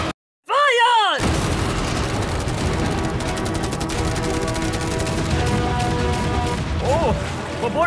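In a video game, around a hundred cannons and a battery of machine guns fire at once at a boat. The result is a dense, loud, unbroken roar of blasts and rapid fire after a brief silent start, with someone talking over it.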